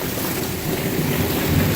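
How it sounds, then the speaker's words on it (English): Heavy rain pours steadily in a thunderstorm, a dense, loud, unbroken roar of downpour with low rumbling, heard outdoors near a street. "tonight get out of the damn rain. It's real bad. Oh, God, lightning."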